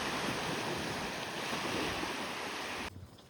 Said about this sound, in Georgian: ნახეთ რა მშვიდი ზღვა არის